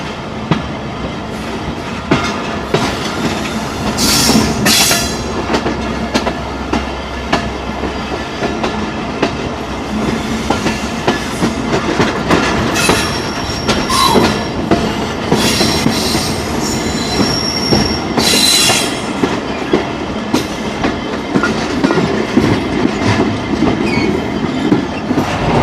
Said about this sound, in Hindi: गुजर खान रेलवे स्टेशन से अब हम गुजर रहे हैं और 78 की स्पीड है जी, थ्रू जा रहे हैं हम।